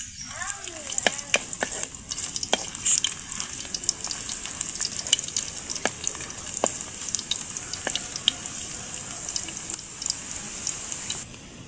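Ginger pieces frying in hot cooking oil in a pan, a steady close sizzle with scattered sharp pops and crackles throughout, no talking over it.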